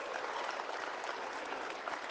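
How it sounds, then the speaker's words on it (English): A crowd of supporters at a Conservative political rally in Stoney Creek, Ontario applauds a general, with dense, steady clapping that holds loud and continuous throughout. "Give him a big round of applause for the anti-woke General"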